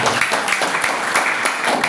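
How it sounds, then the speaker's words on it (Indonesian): Audience clapping at a company gathering, a short burst of moderately loud, dense applause. "tepuk tangan dulu sama Pak Alfonso."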